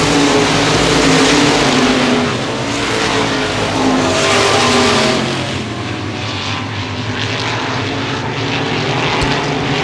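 Modified stock cars racing in a pack at a speedway, engines roaring loud and continuous at close range, with the pitch swelling and fading as the cars pass.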